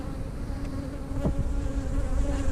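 Honey bees swarm around an open hive while it is being worked, filling the air with a dense, continuous buzzing drone, close and steady, with individual bees flying past.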